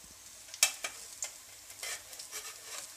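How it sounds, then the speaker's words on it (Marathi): A jowar thalipith cooks in a pan over a low gas flame, giving a faint sizzle with a few soft scrapes and clicks from a utensil. "लहान गॅसच्या फ्लेमवरती आपण 5 मिनिटे हे थालीपीठ वाफून घेतलेलं आहे"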